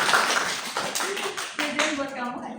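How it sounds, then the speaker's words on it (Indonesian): Classroom clapping during a primary-school thematic lesson, a brief burst of hand claps from students with a teacher's voice speaking over it toward the end. "Tepuk tangan buat Aldina"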